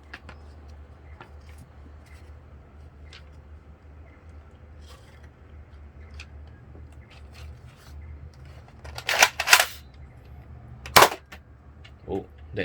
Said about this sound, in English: We're going to have a firing demo of the Ultra 4.